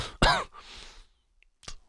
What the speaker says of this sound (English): I'm really coughing.